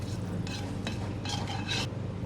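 Cumin seeds frying in hot oil, a steady close sizzle with short bright stirring scrapes and crackles over a low hum; no voices.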